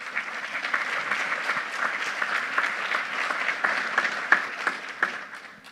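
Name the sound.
audience applause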